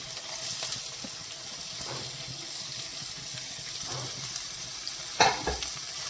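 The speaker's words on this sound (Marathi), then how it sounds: "आता कांदा हा नीट बारीक लाल होईपर्यंत करपायचा आहे" Onion frying in a pan with green chilli and garlic gives a steady, moderate sizzle with occasional scraping stirs and a few sharper clicks, continuous throughout with no talking.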